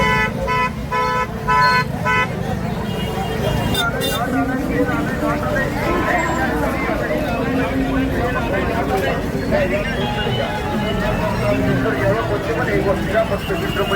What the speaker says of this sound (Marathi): ट्रॅफिक लय भरपूर ट्रॅफिक केलेली आहे विनाकारणची.